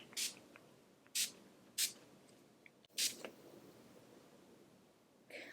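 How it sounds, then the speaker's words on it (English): Several short, airy spritzes of Pixie Glow Mist face spray go off close by during a makeup routine, spaced irregularly across a quiet room with no talking. "I'm gonna apply my Pixie Glow Mist."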